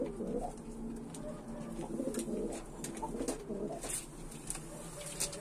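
Domestic tumbler pigeons in a rooftop loft in Diyarbakır, cooing steadily with soft overlapping calls, close by over a constant low background hum. No talk.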